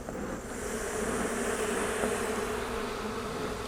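Honey bees swarm and buzz around an opened hive after a frame was snapped, a dense, steady close-up drone that fills the space without letting up.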